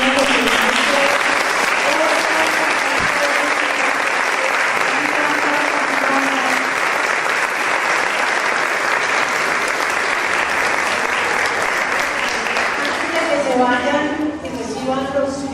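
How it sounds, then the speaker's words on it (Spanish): Sustained applause from a school audience of children and adults at a project closing ceremony, a dense steady roar of clapping that fills the whole stretch, with voices rising toward the end. "yo quisiera un aplauso mayor para Lorena"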